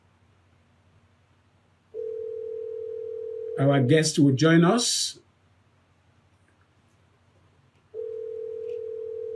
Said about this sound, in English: His phone is ringing.